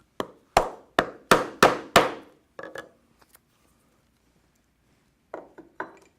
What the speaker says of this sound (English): take a strap end punch, and I will cut this end to a point.